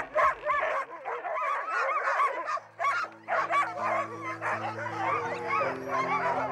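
Sled dogs in a large mushing kennel barking and yipping eagerly, a loud overlapping chorus of close barks with whines mixed in throughout.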